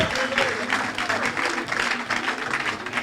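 A church congregation claps and cheers to acclaim Jesus, steady crowd applause filling the room, with a voice faintly present underneath.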